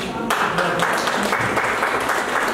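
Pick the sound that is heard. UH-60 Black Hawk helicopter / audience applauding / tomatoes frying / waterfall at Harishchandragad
audience applauding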